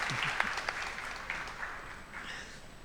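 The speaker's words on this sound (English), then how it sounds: "So we should give applause for Yaduvara Prabhu." An audience at a Srimad Bhagavatam class applauds: a few seconds of soft, steady clapping from a modest crowd, moderately distant and fading slightly toward the end.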